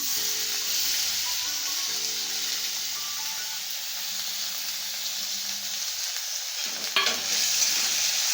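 Green chili, garlic and moong dal frying in a pan, a steady close sizzle with stirring scrapes and a brief louder clatter near the end, no voices.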